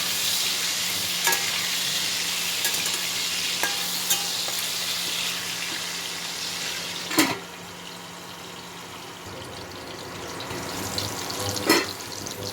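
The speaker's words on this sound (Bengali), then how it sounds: "আলুটা লাল লাল করে ভাজতে হবে।" Potato pieces frying in oil in a home kitchen while being browned for chicken kosha, a steady close sizzle broken by a few sharp spatula clinks and stirring scrapes, with no voices.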